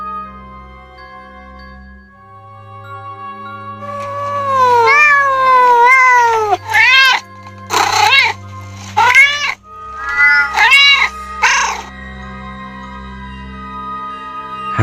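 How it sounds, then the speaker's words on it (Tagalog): A cat meows loudly and repeatedly in long, drawn-out, wavering yowls that rise and fall, followed by several shorter cries, over a low steady background drone. "Pusa. Pusa lang yan."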